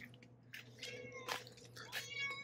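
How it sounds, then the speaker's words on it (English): A cat meowing to be let in, several close, clear meows spread across the moment, rising and falling in pitch against a faint steady hum. "okay, kitty, I'll let the kitty in"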